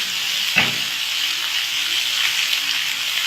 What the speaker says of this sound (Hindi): हमें इनको दोनों साइड से अच्छी तरह से फ्राई करना है